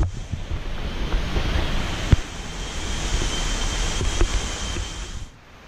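Falling water at M'langen Falls in Maitum, Sarangani, gives a broad, steady roar like surf, mixed with gusty wind buffeting the microphone. It stays loud and continuous before easing off at the very end, with no voices.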